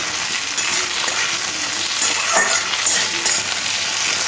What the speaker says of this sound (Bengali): সমস্ত সবজি ভালো করে ভেজে নিতে হবে